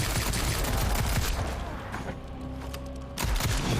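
Rapid gunfire with infinite ammo in a zombies-style shooter game, a continuous loud fusillade of shots that eases briefly and then resumes, with no talk over it.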